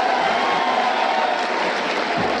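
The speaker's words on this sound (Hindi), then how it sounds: "एक बार जोरदार तालियां आप लोग मिलकर बजा दीजिए" Applause from a crowd at an outdoor political rally in Najibabad, a steady dense wash of clapping at constant loudness throughout, with no voices standing out.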